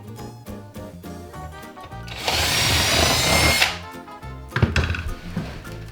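A power drill bores a hole into a wall or ceiling during an office renovation: a burst of whining drilling for about a second and a half, preceded and followed by knocks and handling thuds nearby.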